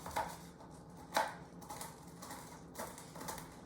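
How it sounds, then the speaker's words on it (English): Knife chopping through crispy bacon on a board, a few sharp crunchy cuts spaced irregularly, close and fairly quiet. "take your bacon, grab a little bunch of it like this, and start chopping it up nice and small"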